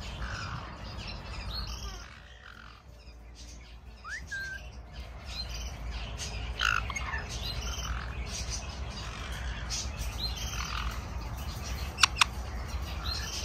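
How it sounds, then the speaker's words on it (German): Green-cheeked parrots at a bird park call back and forth over a steady outdoor background, with a couple of short upward chirps early on and a sharper burst of calls near the end. "Ich finde es wahnsinnig toll, wie die zusammen kommunizieren."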